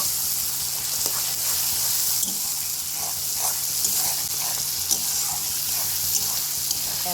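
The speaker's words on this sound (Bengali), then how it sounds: "এর মধ্যে আমি 2টো কাঁচা লঙ্কা, একটু আদা রসুন, এটা দিয়ে 1 মিনিট মতো নেড়ে নেব" Green chillies, ginger and garlic fry in hot oil, giving a steady, close, even sizzling hiss throughout, with faint stirring scrapes now and then.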